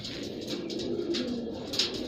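Soft, low cooing of a pair of Mirab-type pigeons repeats steadily over a faint background hum, with a few brighter rustles and chirpy sounds on top.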